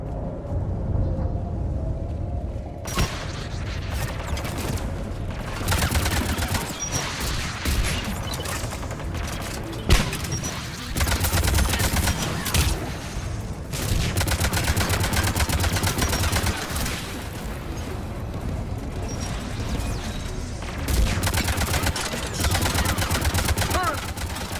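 An anti-aircraft gun fires in the Mass Effect 3 video game: dense, loud bursts of rapid gunfire and booms run almost nonstop, with brief lulls and some voices mixed in.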